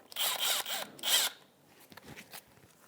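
A 10 mm socket on a wrench breaks loose the starter solenoid nut on a 1998–2011 Ford Ranger 3.0L V6, two quick close ratcheting, whirring bursts followed by faint clicks and handling noises.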